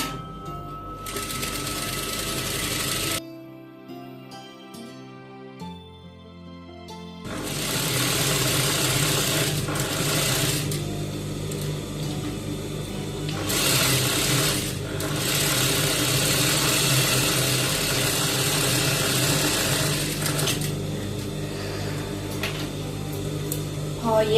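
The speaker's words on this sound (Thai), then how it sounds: "จากนั้นเราก็มาเย็บตลบ ปากกระเป๋าปากถุงก่อนนะคะ" A sewing machine stitches down the folded opening of a fabric bag for a graduation gown, its motor whirring loud and close in long runs, with a quieter stretch between them.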